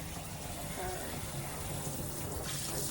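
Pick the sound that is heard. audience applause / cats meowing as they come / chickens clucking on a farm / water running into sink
water running into sink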